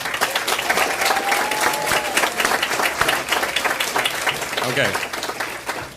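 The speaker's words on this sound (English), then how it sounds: "I do want us to give a very big round of applause for our students." A big round of applause for students at a school board meeting, dense crowd clapping filling the room throughout, with a brief spoken word and a little voice heard over it.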